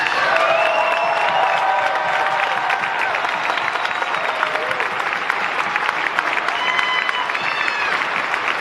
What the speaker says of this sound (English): So if y'all could please just join me in a round of applause